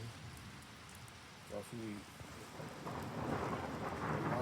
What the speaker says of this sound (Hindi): बारिश शुरू हो गई। तो बहुत ज़्यादा बादलों की गरज है